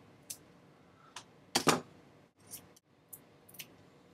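Scissors snip the string of a pita pocket with a few short, sharp cuts and soft handling clicks between them, close and isolated.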